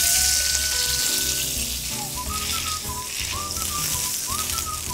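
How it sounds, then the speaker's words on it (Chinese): Steady hiss of olive oil and butter sizzling in a hot pan before a sous vide steak is seared, with background music playing throughout. "现在锅子已经很热了，在里面放一点点的橄榄油，然后1小块黄油。"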